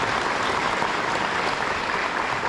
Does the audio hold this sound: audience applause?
yes